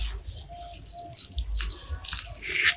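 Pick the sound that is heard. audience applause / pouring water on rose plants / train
pouring water on rose plants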